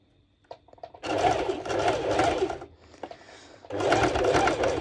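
A sewing machine stitches a bandeau top in two loud, close, steady bursts of rapid mechanical whirring, separated by a short pause, with a few faint clicks before it starts.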